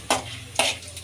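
Urad dal and chana dal roast in a little cooking oil in a pan, two quick spoon scrapes stirring the lentils over a soft, close sizzle.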